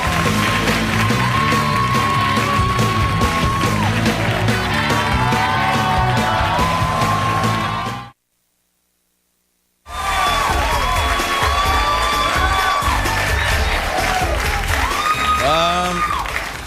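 Loud, sustained studio audience cheering and applause with whoops on a late-night talk show, broken by about two seconds of silence before the clapping and cheering resume.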